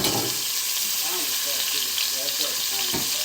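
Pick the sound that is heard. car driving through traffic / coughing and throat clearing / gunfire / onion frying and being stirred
onion frying and being stirred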